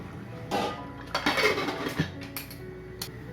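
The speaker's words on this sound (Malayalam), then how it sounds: "ഇനി ഇത് അടച്ചു വെക്കാം" A pressure cooker lid is set and closed over a pot of Kerala mutton curry, giving a few close metallic clanks and clinks in quick succession, with faint scraping between them.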